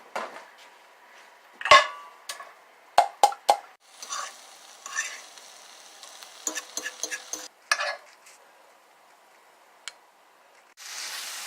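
Bitter melon tipped into a skillet: sharp clatters and scrapes of utensil on pan, a few plopping impacts, stirring and a soft sizzle in between, ending with a steadier frying hiss.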